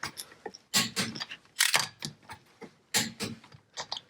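A wrench ratchets and clicks in short irregular bursts while tightening the lug nuts on the back wheels of an ATV, close and fairly quiet, with no talk.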